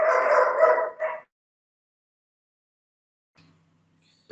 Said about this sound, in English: Sorry guys about this dog, it's really disturbing.